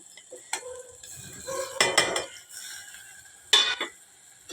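Sliced okra tipped into a pan for a Telugu-style okra pulusu curry, then stirred with a utensil: a few scraping, clinking stirs and brief bursts of contact against the pan, fairly close and without talking.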